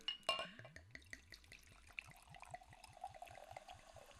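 Prosecco sparkling wine fizzing in a glass right after a toast: a close, quiet series of rapid bubbling pops and trickles, with a brighter clink near the start, no talking over it.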